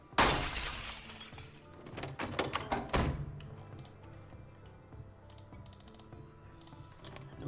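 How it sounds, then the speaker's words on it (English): A car window is smashed in the video game Project Zomboid, with a loud glass shatter followed by a second crash and tinkling shards fading out. "Looks like smashing the window is the only option."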